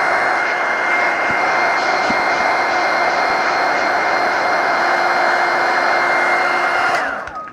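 A heat gun blows a loud, steady, whining rush of hot air while warming a 1935 Parker Vacumatic fountain pen, holding constant before cutting off abruptly near the end.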